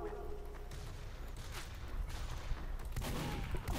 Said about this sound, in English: He's after you with a shotgun.